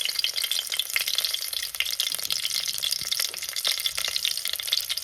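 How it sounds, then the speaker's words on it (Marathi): Garlic dropped into hot oil for tempering, crackling and spitting in a dense, steady sizzle close to the pan, with no talk. "आता फोडणी देते"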